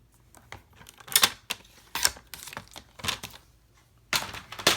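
A paper trimmer slices through cardstock while a stamped card is made, giving five or so crisp, close, scraping swipes spaced about a second apart, with quiet handling between them.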